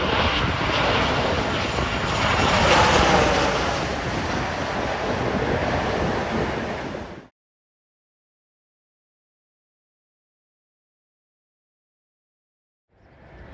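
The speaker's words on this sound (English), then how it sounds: "Caribbean Airways 737 variant from Kingston" A Caribbean Airways Boeing 737 from Kingston, Jamaica, passes with a loud, steady broadband jet roar that holds for about seven seconds, then cuts off into silence before a faint rise at the very end; no voices.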